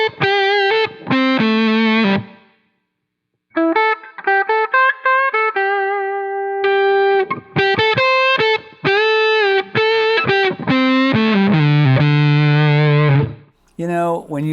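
Electric guitar through a Dunlop Fuzz Face pedal, loud and thick with fuzz distortion, playing bursts of notes and sustained phrases with a pause in between, then a low heavy chord near the end; a voice speaks briefly.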